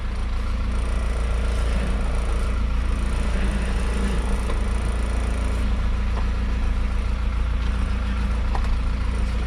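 An Isuzu NPR truck engine idles steadily at close range while the truck slowly turns, a continuous low rumble with light mechanical clatter and no talking.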